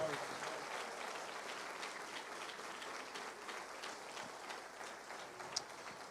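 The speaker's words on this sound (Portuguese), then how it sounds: "Se vai aplaudir, aplauda forte." A church congregation applauding during a sermon, a faint, steady wash of clapping that continues evenly throughout, with one sharper clap standing out near the end.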